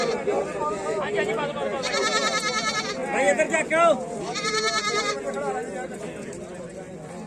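Goats bleat loudly in a couple of long, wavering calls at a goat fair in Ladal, Punjab, while people talk nearby.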